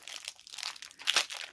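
A cardboard advent calendar door being prised open, a run of soft crinkling and crunching paper-and-card sounds, close and fairly quiet, with one sharper crackle partway through.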